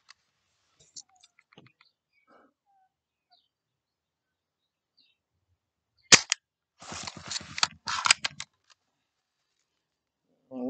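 Old spring-loaded Buck Jones BB gun fired at a target, giving a few sharp, quiet snapping shots and clicks that are separated by long silences, with faint bird calls in the background.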